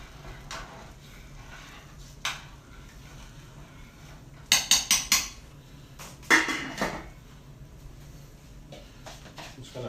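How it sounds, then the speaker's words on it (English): A spoon scrapes ricotta cheese out into a bowl during lasagne preparation, giving sharp clustered clinks and knocks of metal against the bowl over a quiet, low kitchen background, with no one talking. "I'm just going to finish scraping out my ricotta cheese into the bowl"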